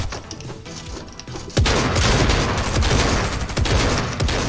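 Rapid bursts of in-game gunfire from Fortnite, a competitive duos match, start quietly and then erupt into sustained, loud, dense shooting that continues to the end without talk.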